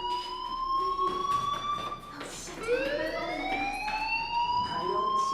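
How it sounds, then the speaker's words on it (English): A school fire alarm in the video game Life Is Strange sounds loudly and steadily, a sustained electronic wail with layered harmonics that dips briefly near the middle before resuming, with no talk over it. "Hey, do you hear that fire alarm?"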